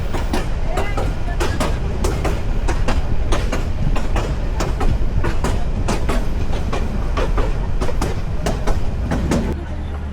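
A passenger train on the Dhaka to Kishorganj line runs along the rails with a loud, steady clickety-clack of wheels over rail joints in rapid repeating pairs, heard from on board under a constant rumble.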